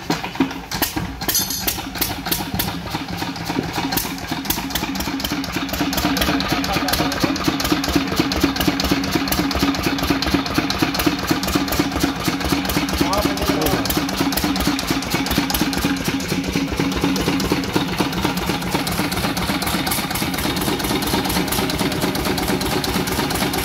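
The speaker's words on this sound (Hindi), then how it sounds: "तो ये लिस्टर इंजन है, इसको स्टार्ट करेंगे और इस पर लोड लगाकर देखेंगे कि कैसा लोड लेता है ये।" A Lister Fieldmarshal diesel engine starts and settles into a loud, steady rapid thumping run, close by and continuous, with a dense mechanical clatter throughout and no talk.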